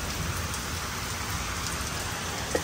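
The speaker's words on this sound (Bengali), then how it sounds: "বাইরে বৃষ্টি হচ্ছে" Steady rain falls outside as a dense, even hiss of drops on surfaces, moderately faint and unchanging, with no voices over it.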